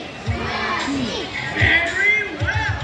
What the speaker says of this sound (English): Come on, boys, let me hear your cheer.